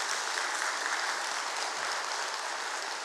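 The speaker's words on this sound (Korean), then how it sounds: "우리 목사님한테 박수 한번 부탁합니다" A church audience applauds its pastor during a thanksgiving night service, a steady even wash of clapping lasting a few seconds, moderately distant and without talk.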